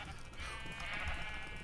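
A Minecraft sheep lets out a drawn-out wavering bleat, moderately loud over a busy game background with low rumbling.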